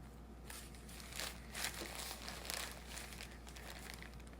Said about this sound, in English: she was like rolling around on the plastic bag